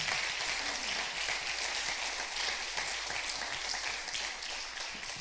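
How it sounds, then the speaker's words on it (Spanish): A congregation applauds for Jesus during a church service, a steady, moderately distant wash of many hands clapping that holds evenly throughout. "Vamos, aproveche darle un aplauso a Jesús"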